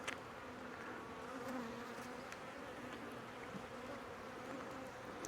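Honey bees buzz steadily around an open hive, a dense continuous drone with occasional individual bees passing close, no talking.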